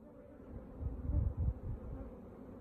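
Honey bees buzzing around open hive frames while the first honey crop is taken, a faint low droning hum with a few closer swells in the middle, no talking.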